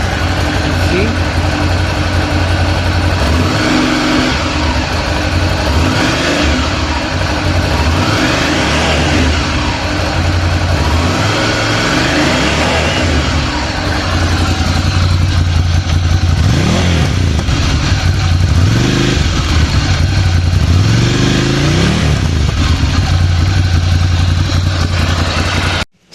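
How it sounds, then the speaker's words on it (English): A Ducati Scrambler Desert Sled motorcycle is started and revved repeatedly, its exhaust note rising and falling in several bursts over a steady idle, loud and close. "that was the exhaust note of the Ducati Scrambler Desert SLED"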